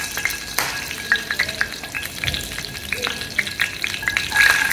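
Cumin seeds crackle and sizzle in hot oil at the start of a homemade tomato chutney, a close, steady frying hiss broken by sharp little pops scattered throughout, with no talking.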